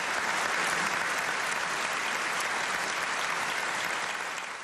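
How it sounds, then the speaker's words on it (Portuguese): Long, sustained applause from an audience, a dense, even wash of clapping at steady loudness throughout, easing slightly at the very end, with no voices over it. "O agradecimento vem em forma de aplausos demorados"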